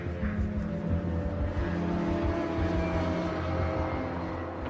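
A car lapping Silverstone during night practice for a 24-hour race, its engine a steady, loud drone that holds for the whole stretch with no pauses.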